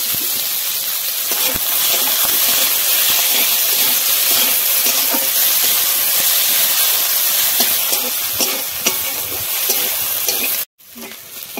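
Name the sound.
spice masala frying in oil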